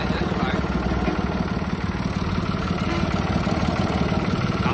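A Kubota M1 tractor's three-cylinder diesel engine idles steadily and close by, with a rough, even low throb and no breaks for the whole stretch.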